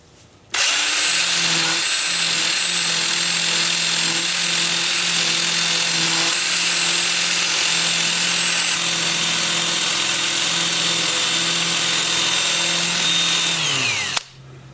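A Sandflex power sander smooths the edges of a wood-turned bowl, starting with a motor whine that holds a steady loud hum and abrasive hiss for about fourteen seconds, then spins down and stops.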